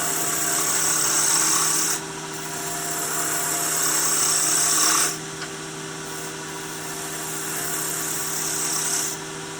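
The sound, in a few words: gouge cutting wood on a lathe while woodturning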